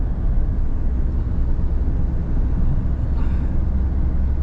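A steady, droning diesel engine and road rumble come from a Mahindra XUV700 diesel manual car driving and overtaking, heard from inside the cabin, with no speech.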